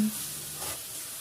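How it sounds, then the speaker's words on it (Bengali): A steady sizzle from potatoes and eggs frying in a wok, a constant soft hiss with a faint stirring scrape, and no voices. "আমি আলুটা ডিমটা একটু ভালো করে নেড়ে চেড়ে দিব যাতে কড়াইয়ের নিচে না লেগে যায়"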